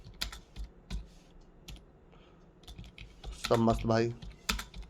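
Clacking keystrokes on a computer keyboard while simple text is typed into a file, steady close taps scattered through the stretch, with a voice speaking briefly over them.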